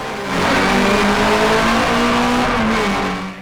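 A Mini racing car in an all-Mini class at the Gurston Down speed hillclimb, its engine note holding steady and loud as it drives through under power, tyres faintly scrubbing, with no one talking.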